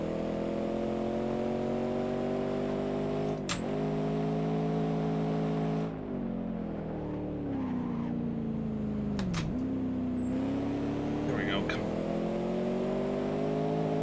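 F3 race car engine on the last lap of a short race in a video game, a steady high droning whine with brief shifts and pitch dips through the gears, sustained and fairly loud throughout.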